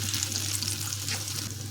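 Raw banana slices coated in lentil paste fry in hot oil, making a loud, steady, close sizzle that holds without a break and has no voices over it.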